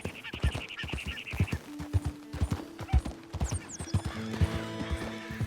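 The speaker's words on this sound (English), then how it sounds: "hearing the sound of like the horse riding on the ground" Horse hooves on the ground in the video game Red Dead Redemption, a rhythmic clip-clop of steps close by, with a horse whinny early on and bird calls and tonal game sounds joining later.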